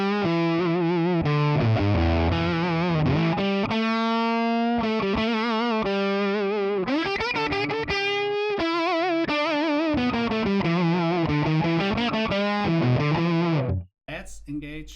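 Distorted electric guitar on the bridge pickup through a ToneX ONE character amp model with no reverb, playing dense chords and melodic lines loudly and steadily for about fourteen seconds before stopping abruptly.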